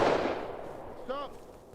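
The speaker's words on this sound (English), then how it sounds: "Why are you shooting at me?" A single loud gunshot rings out in a multiplayer video game battle, with a long decaying echo and a brief faint tone near the end.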